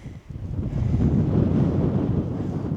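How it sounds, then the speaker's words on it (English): Strong wind on open moorland on the Pennine Way between Hawes and Tan Hill buffets the microphone in a low, rumbling roar that swells after a brief lull and stays heavy and gusty. "Sorry if it's windy."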